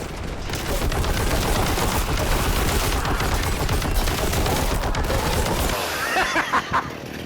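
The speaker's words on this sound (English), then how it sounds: "The heavy bolter is extremely heavy. It takes a brief second for it to wind up" Heavy bolter fire in Warhammer 40k: Boltgun roars in a dense, loud, continuous burst of rapid shots for several seconds before cutting off, leaving a few scattered thuds.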